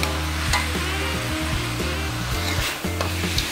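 Pork and frog stir-fried in a hot pan for a Khmer hot frog dish, a loud continuous sizzle broken by rhythmic scraping stirs close up.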